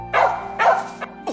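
A mother dog barks twice and then gives a short yip. The barks are close, loud and clear, with no voices.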